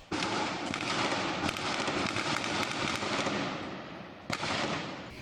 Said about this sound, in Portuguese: Moradores da comunidade registraram a intensa troca de tiros.